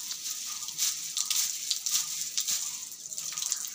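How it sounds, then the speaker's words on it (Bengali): Water runs from a tap over a broom being washed, a steady close splashing with uneven bursts as the bristles move under the stream. "এখানে যে কলে এই যে ঝাঁটাটা এখন একটু আমি ধুয়ে নেব"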